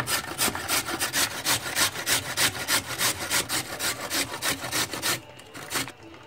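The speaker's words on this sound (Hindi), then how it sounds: "इस तरह से सारी गाजर घिस लेंगे।" Thick red carrots are rubbed against a hand grater for gajar halwa in quick, even rasping strokes, about twenty in a row, close and fairly loud, before they stop, with no speech.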